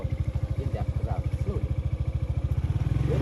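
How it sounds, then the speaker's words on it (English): A motorbike engine chugs in rapid, pulsing beats, rising in pace toward the end as it revs, with a voice speaking over it, on the desert sand sea at Mount Bromo volcano, Indonesia. "We're gonna rip it on our motorbike that we got here."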